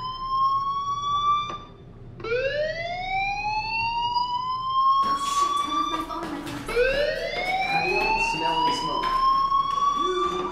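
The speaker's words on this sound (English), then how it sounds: "do you hear that fire alarm?" A fire alarm sounds in the video game Life Is Strange, with repeated rising, siren-like electronic wails that come in several overlapping sweeps, loud and up close, with a short gap between bursts.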